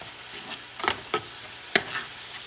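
A spoon scrapes and stirs turmeric, black pepper and smoked paprika in a hot frying pan over a low sizzle, with three or four distinct scraping strokes standing out close up, no voices.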